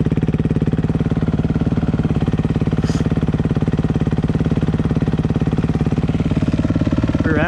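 A motorcycle running on a race track, its engine a steady, loud, close rumble with a fast even pulse, holding a constant tone throughout with a brief rising whine near the end.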